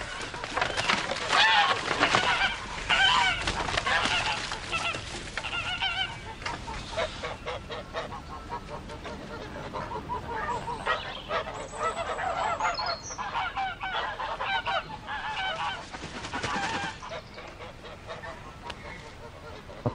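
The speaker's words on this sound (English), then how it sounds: "I looked at the geese, which was hissing and huddling in the corner of the yard." Geese honking and hissing in a yard: a dense, continuous chorus of nasal honks close by, with a person speaking over part of it.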